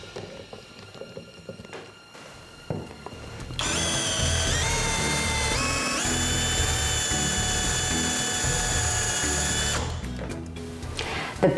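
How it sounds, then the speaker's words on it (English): A DEKO cordless power drill bores into hard koa wood, its motor whining in a steady, loud, close drone for several seconds with shifting pitch under load, framed by brief handling clatter before and after. "The bit that came with the power drill struggled as I placed it and drilled it into the hard koa wood"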